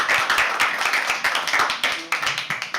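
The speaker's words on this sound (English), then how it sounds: "keep clapping" Steady clapping from an audience at a live poetry open mic night, dense overlapping claps sustained throughout with a few faint voices mixed in.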